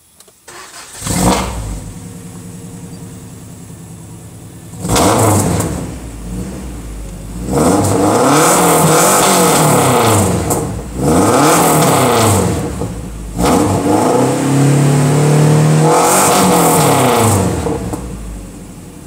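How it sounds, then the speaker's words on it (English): A 1991 Isuzu Trooper engine revs up hard in repeated bursts, climbing high and falling back between pulls, loud and close with a few short pauses between revs. "I've given this engine everything it needs, and it's not afraid of the high revs."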